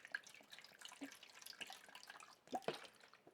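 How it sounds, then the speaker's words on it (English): Vodka drips through the filter of a Brita water pitcher, a quiet, irregular patter of small drops falling into liquid with no voices. "this process of dripping in is going to take about 5, maybe 10 minutes"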